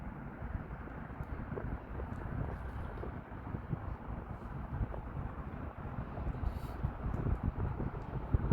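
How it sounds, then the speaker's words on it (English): Gusty wind buffets an outdoor microphone at Raven Point Nature Reserve in Ireland, a steady low rumble that swells in stronger gusts toward the end, with no talking. "And just get pretty gusty there now."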